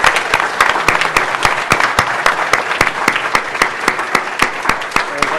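Dense, steady applause from an audience at a speedrun event at Awesome Games Done Quick 2017, with many close, sharp claps filling the room throughout and faint crowd murmur underneath.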